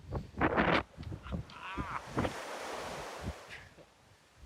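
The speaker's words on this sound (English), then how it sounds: "There's not many big waves crashing up off it" Ocean waves wash against a rocky coastline near Perth with caves and overhangs, heard as broad rushing surges under gusty wind buffeting the microphone, moderately loud at first and fading into a softer wash.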